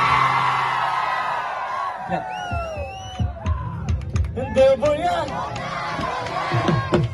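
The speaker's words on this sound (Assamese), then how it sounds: "প্ৰথমে এটা চিঞৰ মাৰক চবে, চাওক চিঞৰটো চাওক" A large live-concert audience at a singer's stage show shouts and whoops in loud, repeated bursts, with shrill whistle-like cries rising above the crowd roar.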